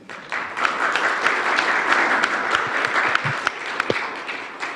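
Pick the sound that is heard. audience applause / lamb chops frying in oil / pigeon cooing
audience applause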